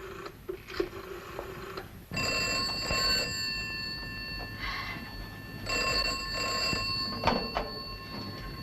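A telephone rings in bursts, a bright trilling bell repeating in a quiet room with a pause between rings, fairly close and unaccompanied by talk.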